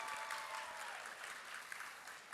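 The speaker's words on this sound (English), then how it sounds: "Give yourselves a round of applause that we have made it this far." An audience at a student leadership training event applauds, a steady even wash of many hands clapping at a moderate distance throughout, with no one speaking over it.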